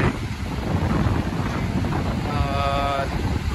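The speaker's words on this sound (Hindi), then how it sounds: "देख सकते हैं क्या तेज हवा चली है इस पुल पे" Strong wind buffets the microphone on a bridge over the Chenab river in Lahaul-Spiti, Himachal Pradesh, a steady loud broadband roar throughout, with faint talk mixed in.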